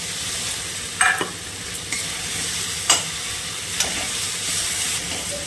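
Eggs stirred into a frying masala of garlic, tomato, chilli powder and turmeric, giving a close, continuous sizzle broken by scraping strokes of a spoon against the pan, with no voices.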